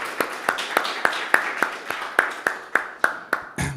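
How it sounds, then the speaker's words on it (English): A small audience at a tech industry talk claps in a quick, fairly even rhythm, each hand strike crisp and distinct, with close, moderately loud claps carrying over a quiet room. "If everyone could put their hands together for a round of applause"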